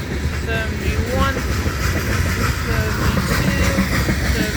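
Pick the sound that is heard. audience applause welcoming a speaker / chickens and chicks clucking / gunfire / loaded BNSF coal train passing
loaded BNSF coal train passing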